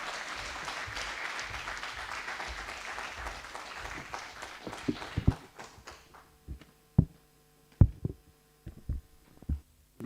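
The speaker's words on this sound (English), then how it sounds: "Let's give him a warm round of applause" Audience at a Kenya Investment Mechanism closeout event applauding a speaker, a dense wash of clapping that fades after about six seconds into a few isolated thumps and taps.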